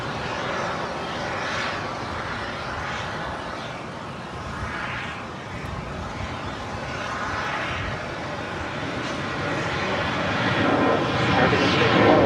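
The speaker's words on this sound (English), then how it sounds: "This is Alaska Airlines 1315 departing to Portland on a MAX 9." An Alaska Airlines Boeing 737 MAX 9 departs LAX, its jet engines rumbling and swelling louder toward the end while a voice speaks faintly beneath.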